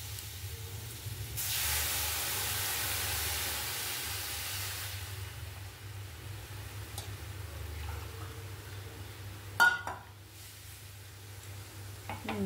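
Water poured into a pan of sautéed spices hisses loudly for a few seconds as steam rises. The hiss fades to a low simmer, then a brief clatter of utensils follows. Cooking noise alone, no talking.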